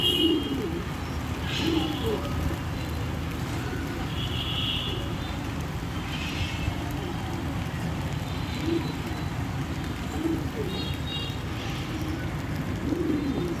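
Pigeons coo in soft, repeated low calls during monsoon rain, with a steady wet hiss underneath. Other birds in the flock sit nearby, and a few brighter chirps rise now and then.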